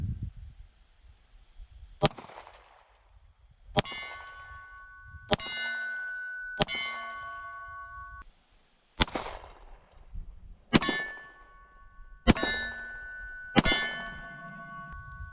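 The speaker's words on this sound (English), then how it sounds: "I'm just going to shoot at a big silhouette and hopefully I can hit it" Eight loud shots from a Smith & Wesson M&P 10mm pistol with a 4.6-inch barrel, fired at a silhouette target in irregular pairs and singles. Each sharp crack is followed by a ringing metallic ping that fades over about a second.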